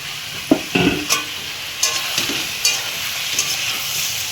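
Fried cauliflower and potato pieces drop into a hot pan and sizzle steadily. Several scraping stirs and soft thumps sound over a continuous frying hiss.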